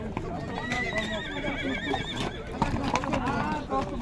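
Horses whinny and neigh repeatedly at a busy winter horse market on the outskirts of Bishkek, with hoof clops and steady crowd chatter and nearby talking filling the background.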